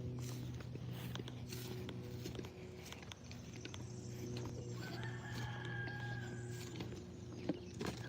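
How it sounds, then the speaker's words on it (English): Chickens cluck faintly in a rural yard where neighbours keep hens and cows, with a low steady hum underneath and a distant crow-like call, quiet and far off. "Almost everybody got chickens."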